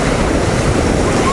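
Rough, restless Black Sea surf breaks at a busy beach, a loud continuous wash of churning waves mixed with gusting wind buffeting the microphone.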